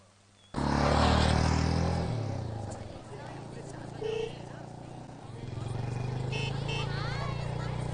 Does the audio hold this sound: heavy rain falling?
no